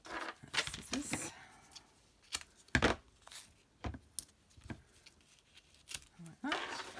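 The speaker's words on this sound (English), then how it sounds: "Scissors." Several short, crisp snips of scissors cutting through foam tape, spaced irregularly, close by, with brief quiet gaps between cuts.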